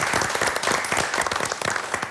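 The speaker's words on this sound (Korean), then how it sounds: "응원의 박수 한번 보내드리고요" A short, close burst of lively hand clapping from a studio audience, brisk and irregular, giving encouragement on a television discussion program.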